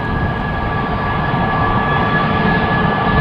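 Jet airliner engines at Amsterdam Schiphol airport, with an A350 lined up at the runway threshold, producing a steady, loud roar with a constant high whine over the whole stretch.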